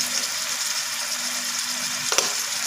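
Two medium-sized tomatoes fry with a pinch of salt in a pan for a dhaba-style moong daal tadka, making a steady close hiss and sizzle, with a brief utensil clatter near the end.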